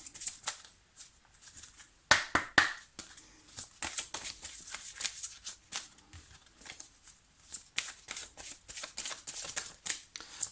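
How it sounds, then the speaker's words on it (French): Petit Lenormand cards being shuffled for a reading, giving a close, continuous run of riffling flutters and soft slaps of card stock, with a few sharper snaps, no talking. "Alors Lys, je vais me concentrer sur votre question pendant que je prépare votre tirage."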